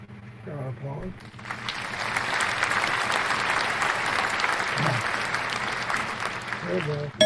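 A burst of applause swells after a brief spoken interjection and holds steady for several seconds, then fades as a voice returns near the end.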